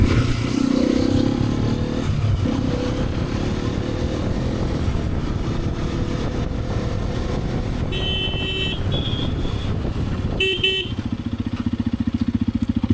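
Motorcycle ridden along a road toward a dam, its engine droning steadily with wind rush close to the mic, plus a couple of short horn-like tones near the end.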